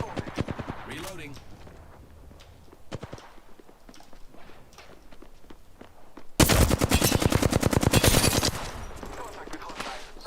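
Assault rifle and SMG fire in a first-person shooter video game: sparse single shots and short clicks early, then a loud sustained automatic burst for about two seconds, with a commentator talking over the action.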